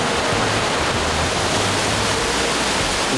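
Loud, steady roar of a giant waterfall on a road through Spain's wild landscapes, broadband rushing water constant throughout with no voices.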